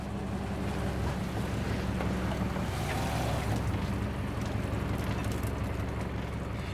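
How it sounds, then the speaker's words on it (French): An electric motor on a lobster boat off Maine hauls about twenty meters of trap rope, a loud, steady mechanical drone over wind and water with no voices. "Un moteur électrique l'aide à remonter la vingtaine de mètres de corde."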